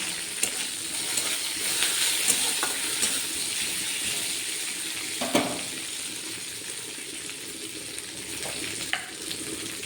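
Chopped curry leaves sizzle as tempering in hot oil in a khichdi pot, a steady loud frying hiss with occasional sharper crackles and a brief clatter near the middle.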